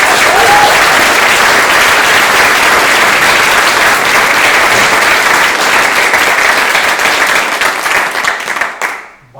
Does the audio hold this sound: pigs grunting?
no